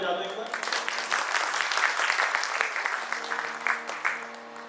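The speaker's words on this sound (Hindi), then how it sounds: "सबने तालियां बजा दी, आप भी बजा दो एक बार।" Dense, steady applause from an audience at a live Ramayan katha, a Hindu devotional storytelling session, rising quickly and holding for several seconds, with sustained musical tones beneath.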